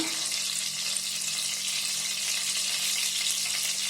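A bay leaf, three cardamom pods and a small piece of cinnamon sizzle in hot oil for a coriander rice recipe, a steady close hiss of frying that runs evenly throughout without speech.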